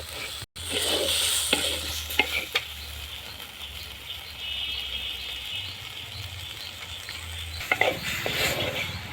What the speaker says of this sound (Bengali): একসঙ্গে মশলার সঙ্গে কষিয়ে নেব এভাবে কষিয়ে নেব